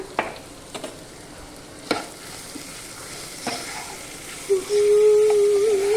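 Broad bean curry seasoned with chili powder and salt being stirred in a pan: scattered spoon scrapes and clinks over a low sizzle, then a steady louder frying hiss near the end.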